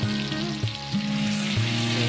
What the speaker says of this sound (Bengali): পেঁয়াজগুলো হালকা ভেজে নিই